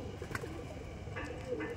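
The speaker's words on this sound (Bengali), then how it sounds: "এই দেখুন এই একটা পায়রা দেখাচ্ছি" A Madrasi pigeon gives a brief soft coo, close and faint, over quiet room background.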